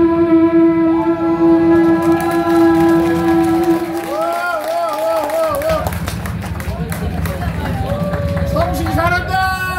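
A man performing at an outdoor market show imitates a KTX high-speed train with his voice, producing a loud, sustained wavering whoosh with rising and falling pitch swoops, close up, as a crowd murmurs in the background.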